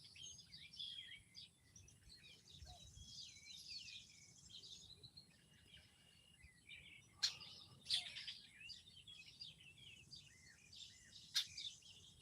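Small birds chirp and twitter continuously at a distance outdoors, faint and overlapping, with a few sharper clicks breaking through over a low background rumble.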